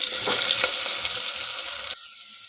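Cumin and mustard seeds sizzle loudly in hot oil in a pan, a dense, crackling fry that cuts off abruptly near the end.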